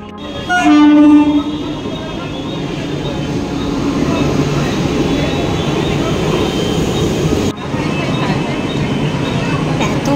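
An air-conditioned Mumbai local train from Bhayandar rumbles steadily along the tracks, loud and close, with a brief horn-like tone near the start and a sudden shift in the clatter later on.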